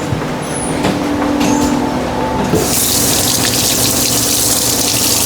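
Water running from a tap, at first a low trickle, then a loud, steady gushing stream as the flow opens up while something is rinsed off.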